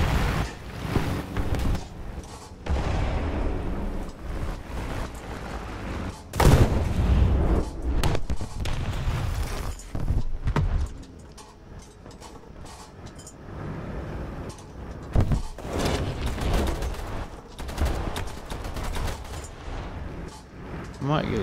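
Gunfire and explosions thump in a War Thunder battle, heavy cannon bursts and rattling shots scattered over a steady engine rumble, with someone talking at times.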